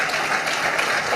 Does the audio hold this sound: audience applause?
yes